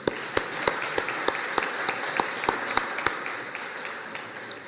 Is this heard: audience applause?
yes